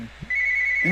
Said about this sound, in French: Le téléphone sonne. Je le prends-tu?